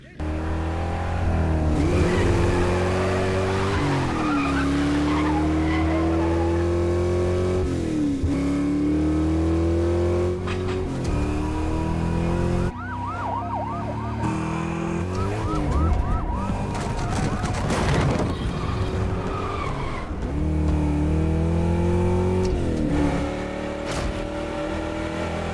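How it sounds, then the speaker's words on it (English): Cars race through a chase scene from the film Jack Reacher, engines revving and whining in repeated rising surges with tire noise, loud and continuous, with sirens wailing in stretches and no talk. "Here's a chase scene from Jack Reacher where nothing happens except driving."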